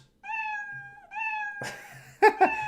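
A cat meows in a meme clip: two long, drawn-out, tonal meows, then a rougher burst and two short, higher chirping meows, clear and close against near silence.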